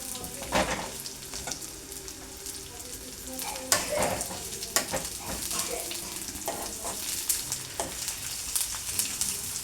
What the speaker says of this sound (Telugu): వేగిపోయినాయి, పోపు దినుసులు చిట్ అంటున్నాయి కదా.